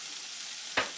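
Garlic sautéing in a pan for beef bourguignonne, with a steady close sizzle and one brief scrape of a utensil near the end.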